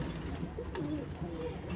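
Breeder pigeons coo softly in short rolling phrases, a couple of low calls close by over a faint background murmur.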